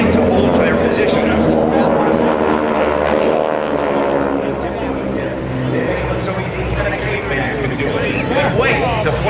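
Pratt & Whitney R1340 600-horsepower nine-cylinder radial-engine aircraft of the GEICO Skytypers performing in close formation at the Jones Beach airshow, giving a steady loud droning roar throughout, with a narrator talking over it.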